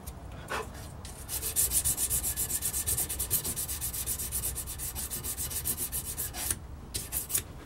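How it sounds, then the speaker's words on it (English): Light hand sanding of a guitar's finish with fine 600-grit paper: a steady, rhythmic back-and-forth rubbing, close and fairly loud, with brief breaks near the start and end and no speech. "You haven't got to go too mad, just a light rub over."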